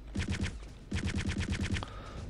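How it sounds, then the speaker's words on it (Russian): Automatic gunfire from behind the player in Return to Castle Wolfenstein: two rapid bursts of sharp, close shots with a brief gap between them, then a short ringing tail. "Кто-то стреляет сзади, кажись, да?"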